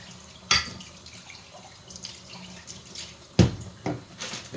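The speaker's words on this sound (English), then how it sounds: "So basically turn your faucet on until the water gets hot." Hot water runs from a kitchen faucet, a low, steady splashing stream broken by a few louder splashes and clatters close by, with no voices.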